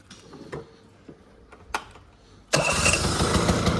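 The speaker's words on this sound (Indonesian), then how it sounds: "Kita akan coba tes suara mesinnya." A 1994 Vespa Excel scooter's engine is started by electric push button: a few faint clicks and ticks, then the two-stroke motor catches abruptly and runs loud and steady, close by.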